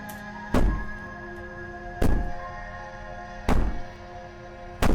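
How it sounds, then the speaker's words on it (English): Heavy banging on a door in the video game Slay the Princess: loud, evenly spaced thuds land about every one and a half seconds over a low droning backdrop, with no talking. "Maybe the banging and wailing will stop if you just don't pay attention to it."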